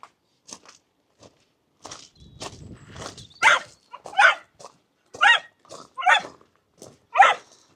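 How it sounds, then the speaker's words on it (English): An excited dog at a hillside marina touring park barks in a series of sharp, loud, close yelps and bursts with short pauses between them, with faint shuffling at the start. "One excited dog."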